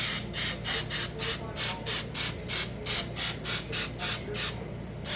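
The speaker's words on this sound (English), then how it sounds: "So just give it a good spray." Baker's Joy cooking spray misted onto a bundt pan for a banana bundt cake, heard as a run of about a dozen short, even hissing bursts in a steady rhythm, close and fairly loud, with no talking.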